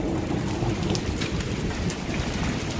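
Heavy, cold rain pours down steadily during a severe storm, a loud, dense hiss of drops on surfaces with no voices.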